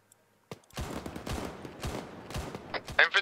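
Arma 3 gunfire rattles in irregular bursts and single shots, fairly loud and close, with a mix of automatic fire and sharper cracks near the end.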